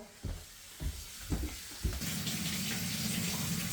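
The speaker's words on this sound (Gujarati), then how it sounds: "નળ બંધ કરીને દીકરો" Water runs from a kitchen tap in a home, a steady, close rushing flow that starts partway through after a few soft knocks and continues to the end.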